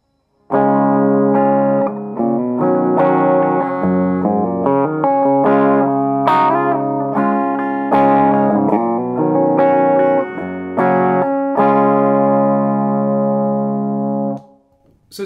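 An Ibanez JS100BK electric guitar plays a clean tone with a little reverb, sustained chords and melodic notes ringing loud and close for about fourteen seconds before cutting off.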